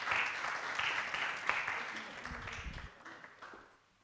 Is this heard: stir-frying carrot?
no